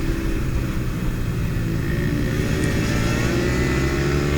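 The engine of a MiniGP F2 racing motorbike accelerates in a steady, loud, close drone with a sustained buzzing tone, heard alone without talking.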